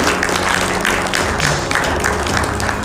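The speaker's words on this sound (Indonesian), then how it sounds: "Mari kita berikan tepuk tangan yang luar biasa bagi kerjasama yang baru saja kita saksikan." A meeting audience applauds a newly witnessed partnership, steady dense clapping from a crowd filling the room, continuous and fairly loud for the whole stretch.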